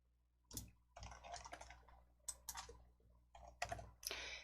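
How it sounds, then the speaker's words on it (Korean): Several sharp keyboard keystrokes on a computer keyboard, spaced irregularly over a few seconds with faint clicking in between, close and fairly quiet. "키보드에 영문 L 눌러주세요."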